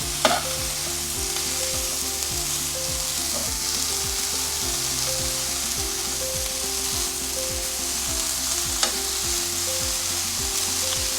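Chicken and green beans sizzle and char in a hot pan with a constant close frying hiss, a few stirring clicks and light music underneath.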